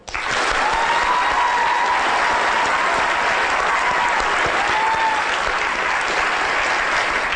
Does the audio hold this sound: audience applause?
yes